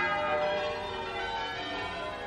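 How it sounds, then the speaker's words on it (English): A new tenor bell ringing at a parish church in Chatham, Kent, giving a rich, sustained metallic tone with layered overtones that slowly fade, clear and fairly loud with no voices. "a new tenor bell for the parish church"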